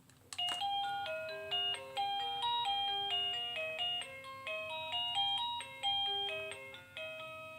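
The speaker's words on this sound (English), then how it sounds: "A text message has come in." A text message alert tone on a phone attached to a Raspberry Pi lab setup plays a bright, melodic run of chiming bell-like notes in repeated phrases, clear and fairly loud with no talking.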